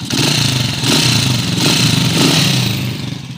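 A Honda TMX155 motorcycle engine, noisy when cold, runs steadily and loud up close, with a loud ticking clatter riding over its low hum and surging slightly in waves.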